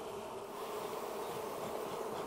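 Honeybees in a swarm box being smoked, a dense continuous buzzing hum from many insects, close and steady without any voices over it.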